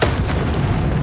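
In the video game Hogwarts Legacy, the Incendio fire spell is cast with one loud, deep whooshing boom that fills the whole brief moment.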